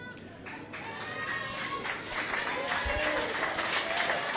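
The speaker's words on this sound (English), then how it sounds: "Ireland's Jane Neal gets the applause of the Irish fans in Ústad Minnach" Irish fans applaud a departing Ireland player at an Under-20 women's rugby match between Scotland and Ireland, a steady stadium clapping that builds and holds, with a commentator talking over it.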